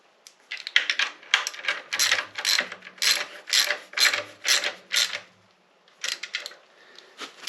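Ratchet wrench driving new grade 8 bolts into a Ford flathead clutch (59 AB pressure plate with 1939 gearbox in a 1937 Ford): close, rapid clicking bursts in uneven repeated strokes, with brief pauses between pulls and no talk.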